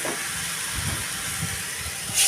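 Water poured into a pan of frying vegetables for egg curry with pointed gourd, giving a loud continuous close hiss and sizzle with low bubbling underneath and a sharper flare at the end.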